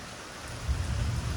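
Steady rain hisses across the whole clip while a low thunder rumble swells in partway through, broad and rolling beneath the downpour.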